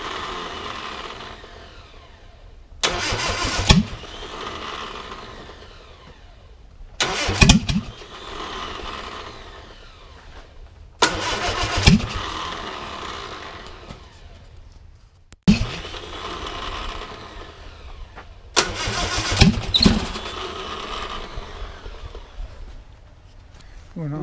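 The engine of a 1959 Triumph TR3, mounted on a stand, is cranked in several short loud bursts, each trailing into a rougher running rumble, while people talk nearby between attempts.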